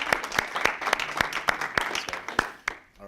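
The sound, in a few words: audience round of applause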